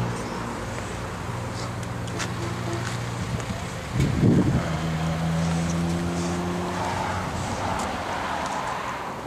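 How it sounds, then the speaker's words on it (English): A 2003 Hyundai Tiburon GT with new tires on a test drive at a dealership, its engine droning steadily with a rising and shifting tone, one brief louder burst midway, under wind and road noise. "This is John test driving a 2003 Tiburon at Westwind Motors up in Leechburg."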